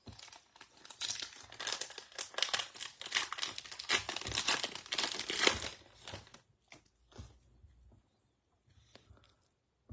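Baseball card pack wrappers crinkle and tear open close by, several seconds of dense crackling plastic rustle that then thins into a few sparse handling rustles and taps.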